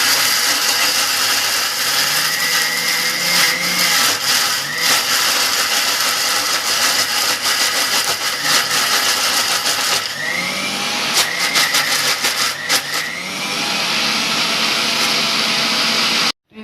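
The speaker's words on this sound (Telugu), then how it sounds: "వాటర్ కూడా అందులో వేసి మిక్సీ చేసుకుందాం." A kitchen mixer grinder (mixie) whirs loudly and steadily, grinding seedless tamarind with water for a chutney, with a brief change in pitch partway through and a sudden stop at the end.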